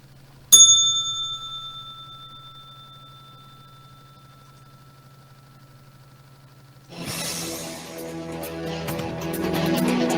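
A single bright bell strike rings out and decays slowly over several seconds with a steady low hum beneath, followed by a burst of music.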